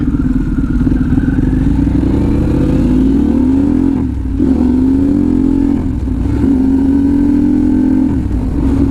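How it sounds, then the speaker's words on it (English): A Harley-Davidson Pan America motorcycle fitted with a stealth exhaust revs loud and close, the engine note climbing and falling in repeated throttle blips with brief dips between them. "definitely letting the bike rev quicker."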